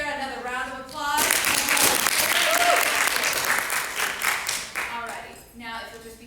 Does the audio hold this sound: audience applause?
yes